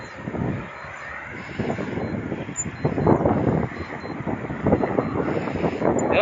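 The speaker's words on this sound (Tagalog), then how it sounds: "Ang ganda ng presko ang hangin" Wind buffeting a microphone while cycling on a road from Santa Rosa toward Greenfield, Laguna, a steady rough rumble that swells and eases throughout with no talk.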